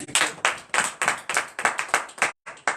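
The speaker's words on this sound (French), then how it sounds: "Donne l'acclamation à Jésus." A church congregation at a morning prayer service in Comè, Benin claps in rhythmic unison in acclamation to Jesus, about ten loud, evenly spaced claps in quick succession with a brief pause near the end.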